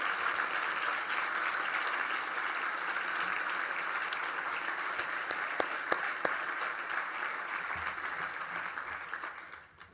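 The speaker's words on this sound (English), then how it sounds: "Let's give all of those one more round of applause." Sustained applause from an audience honoring award recipients at a university evening of distinction ceremony, a steady dense wash of clapping with a few sharper individual claps, fading toward the end.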